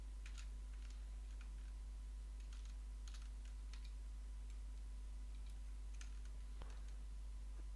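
Very faint keyboard taps and mouse clicks on a computer while editing vertices, scattered irregular clicks over a steady low electrical hum.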